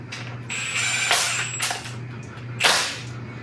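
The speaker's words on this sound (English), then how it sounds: "I'm using this just to run the bolts down." A tool runs bolts down on a Silverado quad cab during final assembly, giving a few short ratcheting bursts with pauses between them, close and fairly loud.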